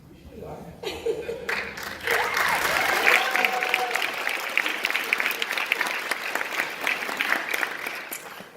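An audience at a college nursing pinning ceremony claps, building to full, dense applause that holds steadily to the end, preceded by a brief spoken voice and a little laughter.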